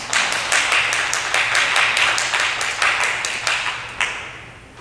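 Scattered applause from attendees at a council workshop meeting, a small group clapping close by in uneven bursts that thin out toward the end.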